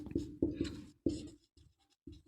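Writing a sentence on a board, a series of short scratchy strokes in an irregular rhythm, close and fairly clear with brief pauses between strokes, no talk.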